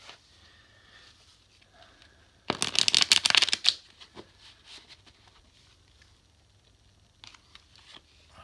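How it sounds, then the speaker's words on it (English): A deck of tarot cards is riffle-shuffled, making a single loud, fast flutter lasting about a second amid quiet room tone, followed by a few faint taps and card handling. "let's do one more shuffle."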